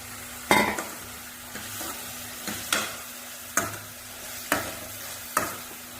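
Tomato and okra frying in oil with a spatula scraping the pan about six times at roughly one-second intervals, each stroke sharp and close over a continuous low sizzle.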